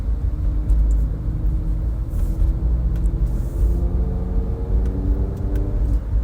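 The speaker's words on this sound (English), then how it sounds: "I hear a loud car." A loud car idles and creeps along in slow traffic, giving a steady, deep engine rumble close by with faint higher rattles and no talking.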